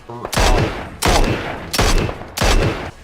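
Four sharp, loud Mini 14 rifle shots fired in PUBG, spaced about two-thirds of a second apart, each a hard crack trailing into a brief echoing tail.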